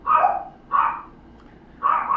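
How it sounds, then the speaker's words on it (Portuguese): Dogs bark three times in quick, loud, close bursts, with short quiet gaps between them and no other sound around. "meus cachorros saindo, latindo por aí"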